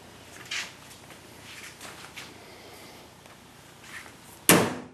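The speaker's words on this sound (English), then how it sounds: "Door closes" A car door shuts with a single sharp, loud slam near the end on a 1960 MGA after a rebuilt, welded sill, preceded by a few faint handling knocks in a quiet space.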